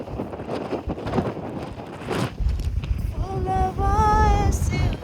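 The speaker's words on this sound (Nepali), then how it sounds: "यस्तो हावा चले हामीलाई त उडाएर धक्का ल्याए" Strong mountain wind gusts and buffets the microphone at Kagbeni, a loud, continuous low roar, while people talk over it.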